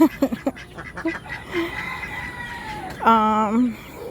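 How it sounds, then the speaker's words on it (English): Backyard ducks kept near a garden quack a few times in quick nasal bursts, followed by a longer, louder quack near the end, close by with light outdoor background. "say hello to my ducks"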